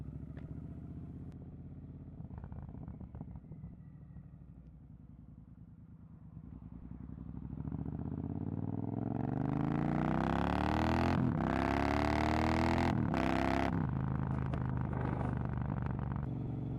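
A Triumph Bobber motorcycle engine idles with a low throb, then revs up and grows louder and fuller, with a few sharp throttle blips near the end.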